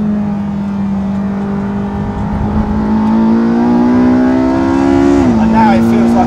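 A Porsche 918 Spyder in hot laps mode, its engine droning steadily at high revs with a smooth rise in pitch and a quick shift near the end, loud and close throughout.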